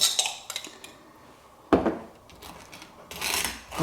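A knife spreads mayonnaise over sandwich bread for a chicken avocado bacon BLT, making close soft scraping and rubbing strokes in short bursts with quiet gaps and a sharper tap of the blade midway.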